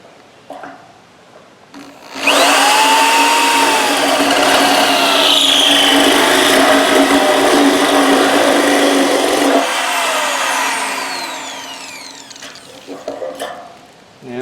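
A power drill bores a 2-inch hole out to 2.5 inches in a stock tank pool fitting, a loud steady grinding whine that starts abruptly, runs for about seven seconds, then eases and winds down.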